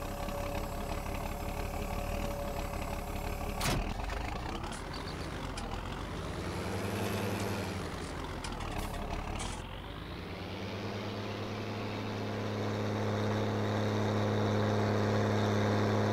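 A Fiatagri tractor engine in Farming Simulator 19 runs with a steady low rumble that swells and dips as it revs and then settles, loud and close throughout, with no talking.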